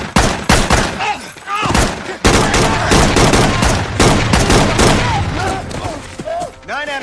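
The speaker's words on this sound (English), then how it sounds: "Officer needs help. Shots fired." A police shootout in a TV crime drama erupts in loud, dense volleys of gunshots and rapid automatic fire, with shouted voices breaking through between bursts.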